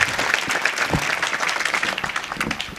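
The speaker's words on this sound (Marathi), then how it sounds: "आणि या सगळ्यांसाठी एकदा तुम्ही जोरात टाळ्या वाजवा" A kirtan audience bursts into loud, dense applause that holds steady throughout, with many hands clapping close by and no voices over it.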